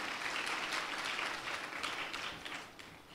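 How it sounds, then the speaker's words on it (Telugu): A church congregation applauds together, a dense, steady wash of clapping that stays even and fairly soft throughout, heard from a distance across a large room. "చప్పట్లు కూడా దేవుని మహిమపరచండి."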